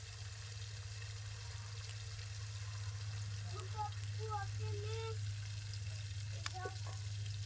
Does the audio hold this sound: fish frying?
yes